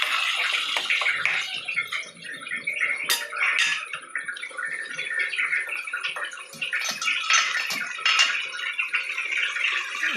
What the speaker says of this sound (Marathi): गरम केलेलं पाणी टाकलं.